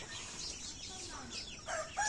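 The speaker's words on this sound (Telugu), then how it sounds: "చాలా ఎంత ఇష్టంగా అంటే అంత ఇష్టంగా తింటున్నాయి మన కోళ్ళు" Country chickens pecking at and eating white worms, with soft clucks and brief calls from the flock over a steady faint background, a couple of sharper calls near the end.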